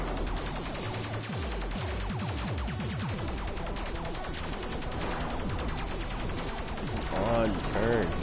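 A ship in the retro arcade game Space Whip fires a rapid, steady stream of shots, a loud chattering volley running almost unbroken throughout.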